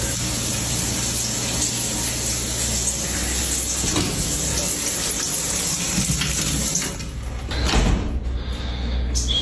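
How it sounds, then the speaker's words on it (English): Shower water running steadily in a bathroom, a continuous broadband hiss filling the clip with a brief clatter and surge near the end. "the shower is running"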